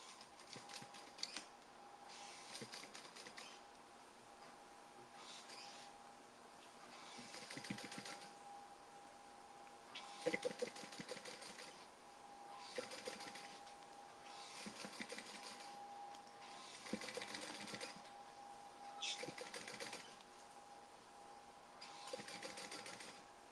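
A sewing machine stitches a long side seam through denim and vinyl on a tote bag, its faint rapid mechanical whir coming in repeated bursts with short pauses between runs, no voices.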